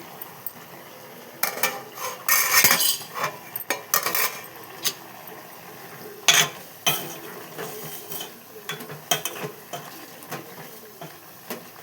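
Brinjal curry stirred in a cooking pot after its lid comes off, with irregular scrapes and clinks of a metal spoon against the pot and a soft simmering sizzle between strokes.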